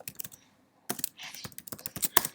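Typing on a computer keyboard to enter names into a Google Slides slide: a short burst of close key clicks, a pause, then a denser run of clicks and taps.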